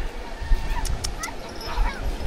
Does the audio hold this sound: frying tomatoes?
no